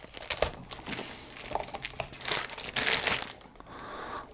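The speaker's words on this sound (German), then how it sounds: "jetzt wollen wir das hier mal auspacken" Close, quiet crinkling and rustling of packaging as an Amazon Fire TV Stick box is unpacked, with irregular crackles and soft taps throughout and no talking.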